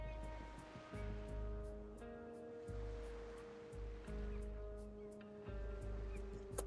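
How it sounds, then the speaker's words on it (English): In the video game Reverse: 1999, sea waves give off a chiming, bell-like sound. Sustained ringing tones shift in pitch every second or so over a soft, steady wash of water. "The waves create a chiming sound,"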